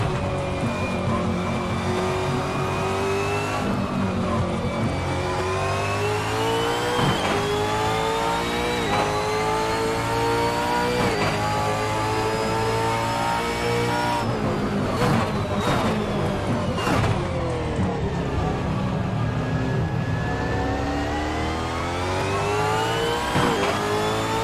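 A V8 race car engine in a racing video game revs hard and continuously, rising and falling through the gears with sharp mechanical pops and some tire squeal, loud and up close with no talking.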